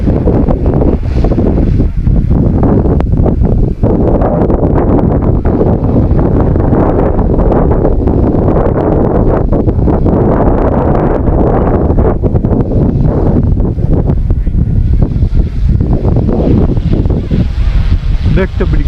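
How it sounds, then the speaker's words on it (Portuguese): Strong wind batters the microphone continuously for the whole stretch, a loud, roaring buffet outdoors near a flying FW200 model helicopter. "Ai, Geno, e tá ventando demais, pessoal."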